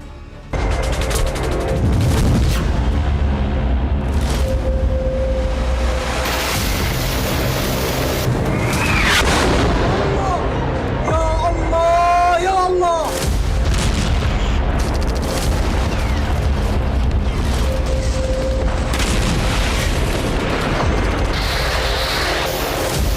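Heavy booms and artillery fire during an attack in Gaza, with dense, continuous rumbling blasts and sharp cracks throughout, plus a loud descending whistling burst in the middle.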